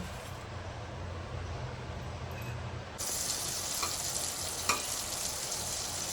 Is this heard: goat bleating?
no